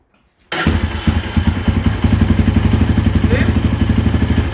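After a moment of silence, a rusty quad ATV engine with a cleaned exhaust starts up close by and chugs in a loud, rhythmic idle with slight revving.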